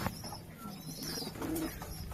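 A pigeon held in the hand gives soft, low cooing. It is faint and close, with a brief burst of higher chirping near the end.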